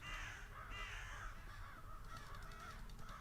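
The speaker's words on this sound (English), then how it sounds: "Ah, the crows, finally." Crows caw repeatedly in the Saint Kotar video game, harsh calls rising over a low steady background rumble throughout, with no talking.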